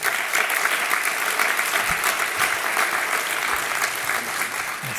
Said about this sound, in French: Monsieur Pierre Gattaz, qu'on peut applaudir, bien sûr.